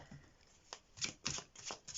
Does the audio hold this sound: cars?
no